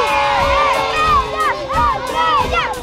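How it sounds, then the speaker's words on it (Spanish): A children's team at a kids' olympics-style event shouts loudly in unison, a chanted cheer repeated in rhythmic bursts with crowd noise around it. "quiero escuchar un grito bien fuerte del equipo Estrella."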